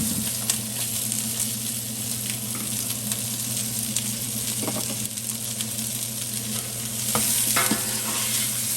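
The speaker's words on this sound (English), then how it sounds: "The sausage has started browning, and we're going to add the tasso." Sausage and tasso sizzling in oil in a pot for Louisiana gumbo, a steady close frying hiss with occasional scraping and stirring sounds throughout.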